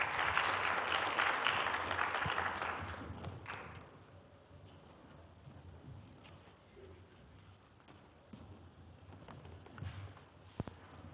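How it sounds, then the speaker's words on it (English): A science forum audience claps briefly for student presenters, a burst of applause lasting a few seconds before dying into quiet room noise with scattered footsteps and taps. "Let's have a round of applause."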